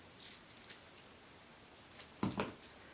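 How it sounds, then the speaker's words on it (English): Scissors snipping away excess fabric on a button form while covering a button for a bolster pillow, a few short, quiet cuts, with a clearer pair of snips near the end. "I'm even going to trim off some of this excess."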